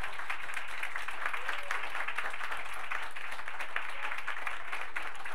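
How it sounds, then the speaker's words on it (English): Audience applause closing a film talk, a continuous, dense crowd clapping at steady volume, filling the space evenly from start to finish with no voices over it. "Please give another round of applause."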